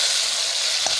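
Onions frying for aloo baingan get a splash of water, giving a loud, steady hiss and sizzle that fills the whole second, with no talking.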